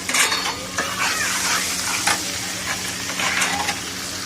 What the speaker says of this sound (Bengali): গোটা জিরে দিয়ে দিচ্ছি অল্প, ক্যাপসিকাম দিয়ে দিচ্ছি, বারিক বারিক আদা আর কাঁচা লঙ্কা দিয়ে দিচ্ছি